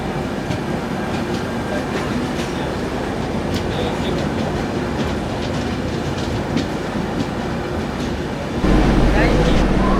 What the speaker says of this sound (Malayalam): ഷാലിമാർ തിരുവനന്തപുരം എക്സ്പ്രസ് ആണ്.